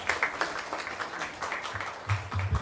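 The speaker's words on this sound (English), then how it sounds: "Let's give him a big round of applause" At a dinner hosted by President Ali for hinterland scholarship students, the crowd gives steady, moderately loud applause with many hands clapping, and a low murmur rises near the end.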